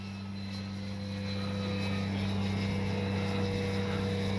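A Dynam EMB-312 Tucano RC model airplane flies overhead, its electric motor and propeller making a steady droning buzz with a constant tone that swells slightly in loudness, with no talk.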